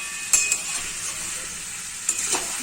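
Chicken cooks in spice paste in a pan with a soft steady sizzle, and a few sharp scrapes and clinks of a spoon stirring against the metal. No one speaks.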